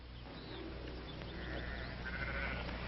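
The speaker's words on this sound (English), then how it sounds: "Now, Drummond, get those sheep out now." Sheep bleat faintly in the distance over a steady low rumble, with a few drawn-out calls rising and falling.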